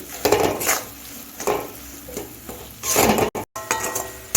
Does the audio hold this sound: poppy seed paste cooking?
yes